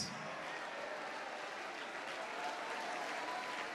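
Church congregation applauding steadily throughout, a dense even wash of many hands clapping at moderate distance with no pauses.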